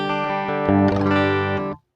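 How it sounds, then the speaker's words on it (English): A brief electric guitar phrase played through a clean amp model on a Line 6 Helix, a few bright, dry sustained notes ringing together before cutting off abruptly. "I got a clean amp here, which sounds like this."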